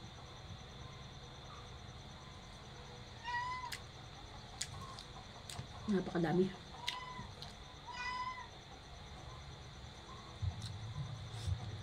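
A cat meows several times in short, rising cries amid quiet room noise, with a person speaking briefly in the middle.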